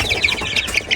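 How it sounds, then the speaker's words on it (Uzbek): Newly hatched Korean rooster breed chicks cheeping in a rapid, overlapping chorus of high peeps, close and loud for about a second. "Mana bugun 1-kun jo'jalarimiz"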